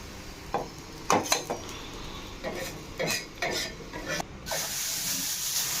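Cooked onions and green chillies scraped off a pan onto a plate for masala dosa: a handful of short metallic scrapes and clinks of a spatula, near and moderately loud, over a faint steady kitchen background with no talk.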